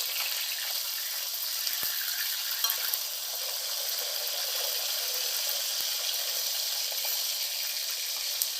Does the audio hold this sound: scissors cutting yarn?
no